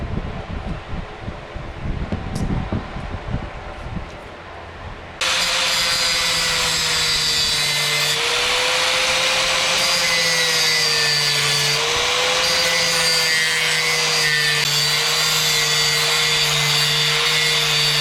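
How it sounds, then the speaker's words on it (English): Power tool grinding and shaving down an intake manifold on an 8th gen Civic Si, a loud sustained high whine with a slightly wavering pitch that kicks in after a few seconds of quieter handling noise. "we're still going to shave down the intake manifold a little bit more"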